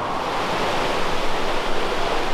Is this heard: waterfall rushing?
yes